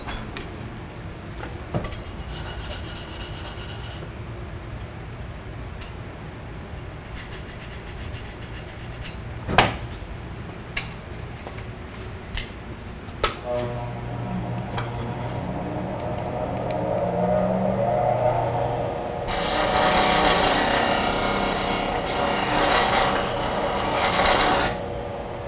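A woodturning scraper has its burr removed on a sharpening setup, the scraper laid top down at a negative angle: scattered clicks and taps, then a sustained rasping, grinding rub that swells loudly toward the end, with no talk.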